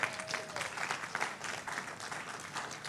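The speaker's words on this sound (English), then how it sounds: "I think it deserves a round of applause" Audience applause at a Saturday seminar session, a steady wash of many hands clapping throughout, fairly even and moderately loud with a faint voice briefly under the start.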